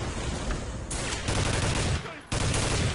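Loud, dense sniper gunfire in the Soldier of Fortune II video game, with sharp shots piling into a near-continuous volley that briefly drops away before resuming just as hard.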